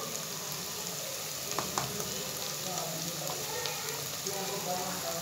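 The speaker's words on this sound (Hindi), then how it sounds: "अब अच्छे तरीके से भून लेंगे।" Meat and potatoes fry with crushed red chilli, turmeric and other spices, giving a steady soft sizzle with faint crackles and occasional stirring scrapes, fairly quiet and close throughout.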